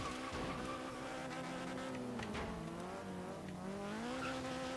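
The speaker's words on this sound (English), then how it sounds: "Let's do a burnout" A Nissan 240SX in the racing game Forza Horizon 3 does a tyre burnout, its engine droning steadily with wavering harmonic pitch under a continuous screech of spinning tyres.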